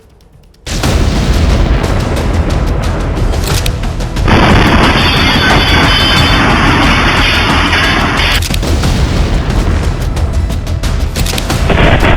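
A sudden loud explosive boom from a blast at a police station in Nowgam, Srinagar, followed by a sustained roaring, rumbling blast that continues for several seconds, with a second surge partway through.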